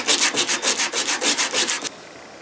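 Sandpaper rubbed over a wooden trail axe handle during an axe restoration, a loud, close, steady back-and-forth scrubbing in about a dozen even strokes that stops abruptly before the end.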